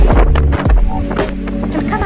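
Strong gusts at the Grand Canyon buffet the microphone, a heavy low rumble with roaring swells over about two seconds, and faint voice-like sounds mixed into the noise.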